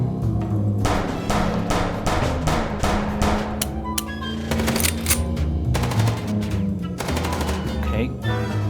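Gunfire in Chicken Police: Paint It Red, rapid repeated bursts of shots cracking over a constant rumbling backdrop, loud and close throughout the shootout.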